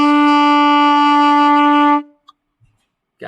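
A single sustained alto saxophone note, B, is held steadily for about two seconds, then stops, followed by near silence with a couple of faint clicks.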